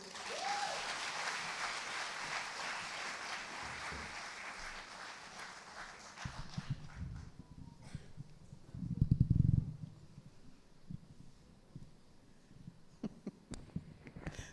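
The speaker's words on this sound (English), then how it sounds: "Give her a big round of applause." Applause from an audience at an International Women's Day celebration, a broad dense clatter of clapping that fills the first six seconds, then thins into scattered claps and low thumps with a brief louder burst around nine seconds.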